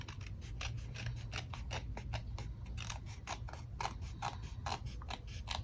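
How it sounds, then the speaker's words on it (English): Scissors snip repeatedly through a card panel on a papercraft desk, a steady run of crisp cuts over a low background rumble, close and fairly quiet, with no talking. "So I'll just take my scissors before I put it through my folder"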